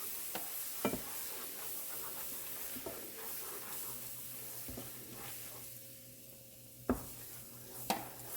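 Flour cooking in fat for a roux for lobster thermidor sauce, a soft continuous sizzle in the pan broken by a few sharp knocks and scrapes of stirring, with no talking.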